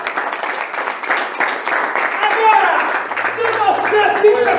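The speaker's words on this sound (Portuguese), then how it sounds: "Tem mais uma salva de palmas a Jesus." A church congregation claps together during a Portuguese-language sermon, a dense, fairly loud wash of hand claps with voices mixed in and a low hum underneath.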